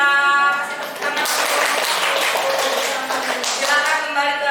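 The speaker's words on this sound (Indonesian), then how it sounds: "Kita kasih tepuk tangan." A classroom of students applauds a group. A dense, steady patter of clapping runs throughout, with voices and cheering rising at the start and end.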